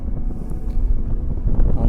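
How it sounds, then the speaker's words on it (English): Strong wind buffets the microphone on a foggy day at Mow Cop Castle. The gusts are loud, low and rumbling, and a voice talks underneath them. "on this very windy, foggy day"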